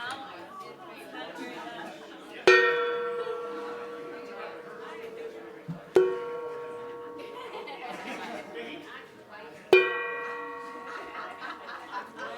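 A gong is struck three separate times during a Sunday celebration service, each stroke ringing out with a bright, sustained harmonic shimmer that slowly decays, while people chatter and laugh softly in the background.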